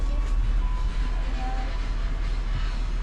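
A coal train rumbles at Padang station, a loud continuous low roar of rolling rail cars with a faint horn-like tone drifting through, heard close.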